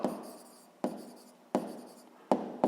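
Numbers being handwritten on paper for a sixth-grade maths exercise, heard as close pen scratches in short strokes, each starting with a sharp tap and trailing off, about four times with no talk.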